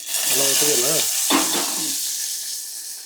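Mustard seeds, curry leaves and onion crackle and fry in hot oil in a pan. A steady, loud sizzle runs throughout, with brief voice-like tones over it in the first two seconds.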